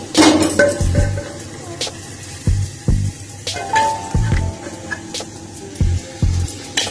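Steel pot of cooked rice with hilsa steamed in gourd leaves, with utensils clinking and scraping against the metal in several short bursts as the food is lifted out, close and clear with no talk.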